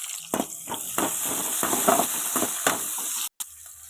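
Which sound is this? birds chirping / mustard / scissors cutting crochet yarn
mustard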